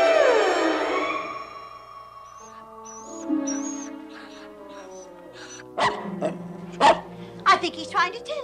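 A dog in a 1960 film scene gives a series of short barks and yips near the end, under and between people talking and a soft music bed.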